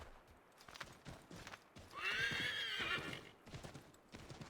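A horse whinnies loudly in Assassin's Creed III, a rising-and-falling neigh lasting about a second in the middle, with rhythmic hoofbeats of a gallop clip-clopping before and after it.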